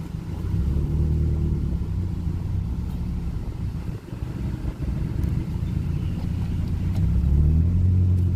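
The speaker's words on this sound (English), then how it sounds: "Let this car go." A car passes on a street in a small Ohio River town, a steady low engine rumble filling the whole stretch and swelling slightly toward the end.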